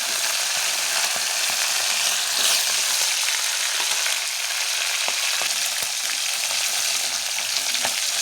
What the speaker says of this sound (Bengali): এদিকে তো ইলিশ মাছ ভাজা হচ্ছে